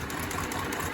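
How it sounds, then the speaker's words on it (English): A sewing machine runs a few back stitches on a fabric placemat, a continuous fast whirring buzz with steady mechanical rhythm, close and uninterrupted for a brief moment. "I am going to sort of secure this with a couple of back stitches just to be sure"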